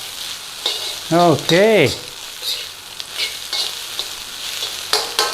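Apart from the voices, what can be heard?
pineapple fried rice cooking in hot pan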